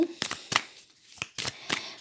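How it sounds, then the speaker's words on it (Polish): Tarot cards are shuffled by hand in short bursts, about five quick riffling flutters separated by brief pauses, close and fairly soft. "zaczniemy tasować"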